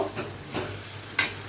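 Ridge gourd in poppy seed paste fries in a pan with a soft sizzle, broken by a few short scraping stirs of a spoon, one sharper clack near the end.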